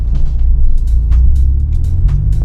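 A car rolls over bumps with a low, heavy rumble and engine drone, while brief soft knocks and clunks from the suspension break through the steady noise.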